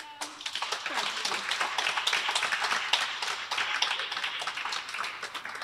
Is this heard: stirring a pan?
no